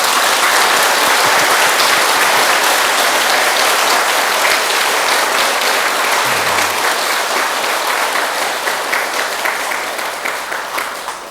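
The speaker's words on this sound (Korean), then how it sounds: "자, 이제는 책 한 권을 뗐으니까 책거리 하는 박수를 한번 치세요" A hall full of listeners at a Korean Buddhist lecture on the Diamond Sutra claps loudly and continuously to celebrate finishing the book, the dense applause holding strong before thinning into scattered claps at the end.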